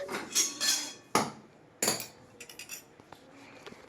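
A metal spoon clinks sharply against a cup as milk is stirred into tea, a few bright separate strikes followed by softer, quicker light taps with no talking.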